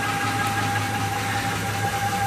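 Ford F150 pickup engine running with a whining noise and excessive vibration, a steady idle rumble with a constant high whine on top, continuous and close.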